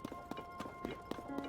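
Horse hooves clip-clop in The Legend of Zelda: Tears of the Kingdom in a steady, even trot. The hoofbeats are soft and fairly quiet, with a faint game soundscape underneath.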